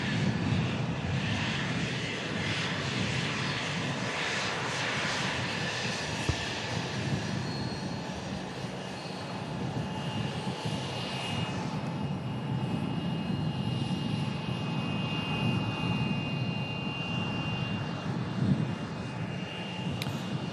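A leased Jet2 airliner's engines roar in a broad, steady wash of noise, loud and sustained, with a faint high whine drifting through partway.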